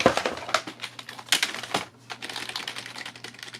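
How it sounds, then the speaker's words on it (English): Quick bursts of typing on a Corsair K55 RGB PRO keyboard give close, crisp key clacks in uneven runs, followed by a short pause and then softer, sparser taps. "I guess you can hear the keyboard."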